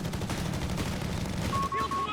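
Sustained machine-gun fire from light vehicles in Company of Heroes 3, a dense continuous rattle of bursts cutting down German troops amid battle noise, with a brief tonal whine near the end.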